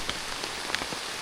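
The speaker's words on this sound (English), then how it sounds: "It started to rain heavily." Heavy rain falls in a forest, a dense, steady hiss of drops striking surfaces with a few louder close splatters scattered through it.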